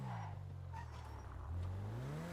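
A BMW driven in GTA 5 RP gives a steady engine drone that rises in pitch as it accelerates, with a brief shift mid-way and rising revs again, heard close and alone without talk.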